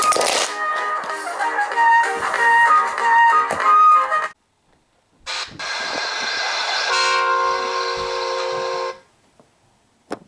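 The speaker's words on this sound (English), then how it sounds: "Heavy freight trains halt here to set their brakes." A heavy freight train's horn blares loudly for several seconds, stops, then sounds again in a long sustained blast, close and dominant.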